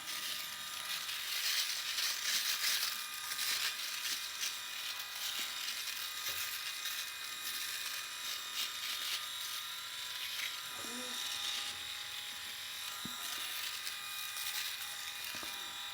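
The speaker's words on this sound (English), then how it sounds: "Now what we'll do is we'll shave this area around my" A SweetLF electric razor shaves around a mustache, a constant close-up buzzing hum with a crackle of cut stubble, running steadily the whole time.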